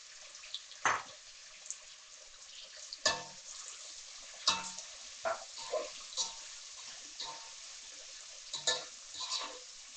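Sliced onions sautéing in a pan for tomato biryani: a faint sizzle with intermittent scraping and clinking of a spoon stirring, a handful of short strokes spread across the clip, close but quiet, no speech.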